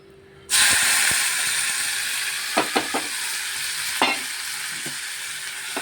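Chopped tomato, onion and green chili hit hot oil with a sudden loud sizzle that settles into a steady hiss, broken by a few scraping stirs of a spatula; no voices.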